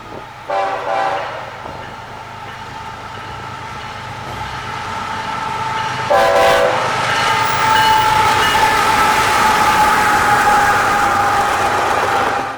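A freight manifest train led by two locomotives rumbles past close by on the southern transcon, wheels clattering steadily, while its horn sounds in long tones early on and again midway.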